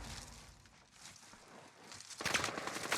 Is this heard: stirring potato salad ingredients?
no